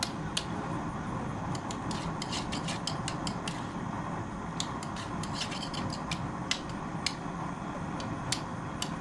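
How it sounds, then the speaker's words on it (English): A coat hanger wire stirrer scrapes and rasps steadily through a pot of trap dye, with scattered sharp ticks and taps as the wire knocks against the container, continuous and close without speech. "Get it all stirred up with my coat hanger stirrer"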